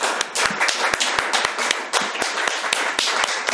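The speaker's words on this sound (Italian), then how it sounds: "L'applauso è assolutamente meritato." Audience at a public assembly on common goods in Catania giving sustained applause, close and crisp claps from a modest crowd, continuous for several seconds with no talk over it.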